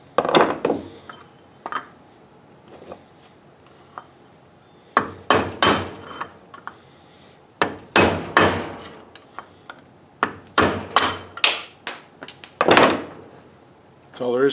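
A mallet strikes a welded metal part for a custom gas-powered tricycle, with loud ringing metallic blows in irregular clusters and short pauses between them, close to the listener.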